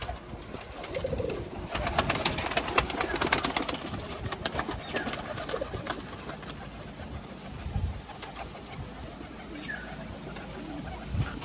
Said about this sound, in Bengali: পায়রাগুলোকে ছেড়ে দিলাম